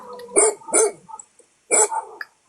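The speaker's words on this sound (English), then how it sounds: "It's just another dog." A dog barks close by, two quick barks followed after a pause by another bark with a short growly tail, loud and alone.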